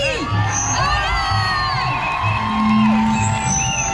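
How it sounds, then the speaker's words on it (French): Yellow vest protesters at a Paris street rally cheer and shout, with many voices whooping and yelling in overlapping waves, loud and near, and occasional chant-like tones rising over the crowd noise. "Applaudissez-vous parce que vous êtes tous ici."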